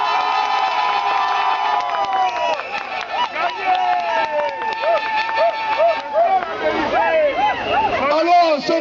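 A large crowd at a political march and rally for Laurent Gbagbo's coalition shouts and cheers in a continuous, loud roar, with whistles and vuvuzela-like horn tones rising over it, voices close and far blending together.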